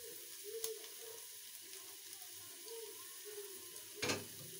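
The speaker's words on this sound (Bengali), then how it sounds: "দিয়ে ভালোভাবে ভেজে নিব" Chopped onion, onion greens and chilies frying in a pan for vegetable fried rice, a faint steady sizzle with a couple of brief clinks or stirring knocks, no voices.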